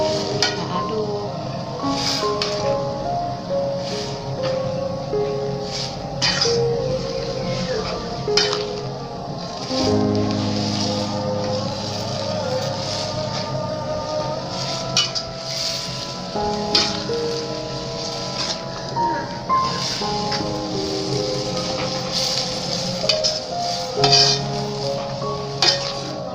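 Tek tek noodles being stirred in a pan, with soft metal clinks and scrapes of the utensil over a steady low sizzle, ongoing and close, with music-like tones running underneath.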